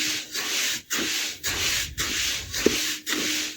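Dry rice is stirred in a hot pan for homemade puffed rice, making a rhythmic, close scraping and rubbing about twice a second with short pauses between strokes and no talking.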